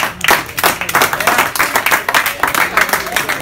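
Audience clapping and applause at a symposium event, a dense burst of many hands clapping close and loud, continuing steadily throughout with some crowd noise mixed in.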